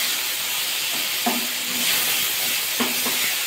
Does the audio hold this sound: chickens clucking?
no